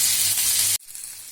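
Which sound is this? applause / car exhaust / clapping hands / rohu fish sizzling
rohu fish sizzling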